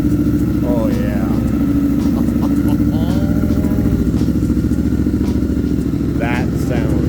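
A 2023 Triumph Scrambler 900 Chrome Edition motorcycle engine runs loud and close with a steady throbbing idle, rising into brief revs, while voices speak over it.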